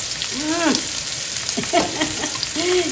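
Food sizzles and crackles steadily in a hot pan, a continuous hissing fry with occasional stirring scrapes.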